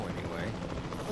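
A helicopter in the dinosaur park game Jurassic World Evolution 2, a steady rotor and engine drone held at an even level throughout, with a person talking over it.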